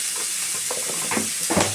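Ingredients for pepper kulambu sauté in a pan with a soft, steady sizzle, with a few close stirring scrapes and clinks toward the end.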